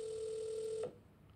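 A phone extension on a FreeSWITCH system rings with a steady electronic tone that stops abruptly partway through, followed by quiet line noise.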